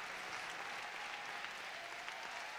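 Steady applause from a crowd at a dog show during junior showmanship finals, where a handler presents a Great Dane, a large breed; continuous and dense clapping throughout, with no talk over it.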